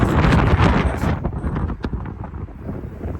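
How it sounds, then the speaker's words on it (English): Wind blasts against the microphone, loud and rushing at first, then easing into a softer, uneven buffeting. "as soon as I turn it on, it gets windy"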